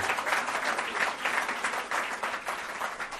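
A round of applause from a summit audience, an even, sustained wash of many hands clapping at moderate loudness with no speech over it.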